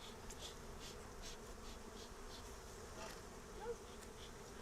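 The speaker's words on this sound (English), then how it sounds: "you're just trying not to squash bees, so you're leaning it up against something so the bees underneath don't get squashed" Honeybees buzz steadily while a hive is opened for a brood inspection. A dense, continuous swarm drone is heard close by, with the pitch wavering slightly and no voices in the moment.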